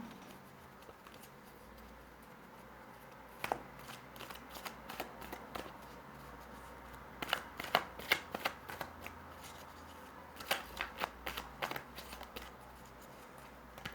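Tarot cards are shuffled by hand for a reading: quiet, crisp riffling and slapping card sounds in several short bursts over a low steady background hum, without speech.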